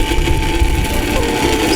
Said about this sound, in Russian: Ровно пилит пила.